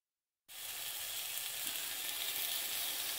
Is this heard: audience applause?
no